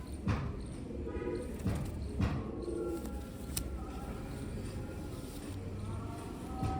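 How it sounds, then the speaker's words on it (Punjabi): A blue-tailed Sialkoti breeder pigeon gives soft, faint rolling coos in short repeated phrases against a quiet, hollow background. "ਚੰਗਾ ਬਰੀਡਰ ਕਬੂਤਰ ਆ"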